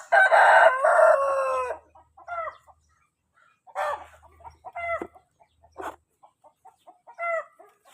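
Chickens moving into a new coop crow loudly at the start, then cluck in short scattered bursts nearby, with quiet gaps between calls and no talking.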